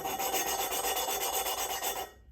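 Steady, close gritty rubbing with a faint rhythmic pulse as a Porsche 944 engine valve is lapped against its seat by hand, continuous then stopping abruptly.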